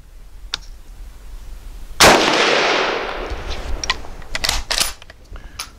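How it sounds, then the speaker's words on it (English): A single loud gunshot from a 1915 American-made Mosin Nagant rifle with a very long barrel, cracking sharply and ringing out briefly, followed by a few faint clicks and handling knocks. "First shot in who knows how long on this gun."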